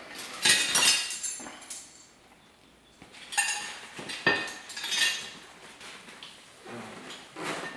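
Spoon clinking and scraping in a bowl of Southern caramel icing as a splash of milk is stirred in, irregular metallic taps and scrapes in bursts, close and fairly quiet, no voices.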